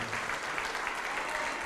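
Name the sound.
audience applause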